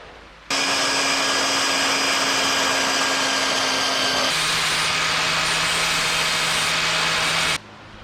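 A power tool whines steadily as it cuts through a long bolt, a loud continuous drone starting abruptly, dropping in pitch partway through under load, then stopping sharply.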